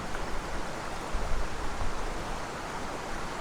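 Lan Sang waterfall in Lan Sang National Park, Tak, flowing as a steady, dense rush of water, even and unbroken, with no voices.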